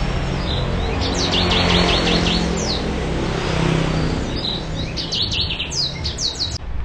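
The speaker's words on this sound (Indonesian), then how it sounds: "Ini burung alis merah." Orange-headed thrush calling in repeated bursts of bright, rising chirps over steady background noise, with a louder cluster of calls near the end.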